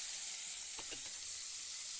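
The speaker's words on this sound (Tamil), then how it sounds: "ஆனியன்ஸ் கட் பண்ணதை வச்சு கடுகு பொரிஞ்சுக்கிறோம்." Chopped onions and mustard seeds fry in hot oil for a macaroni dish, giving a steady, moderately loud sizzle with a faint stir partway through, and no voices.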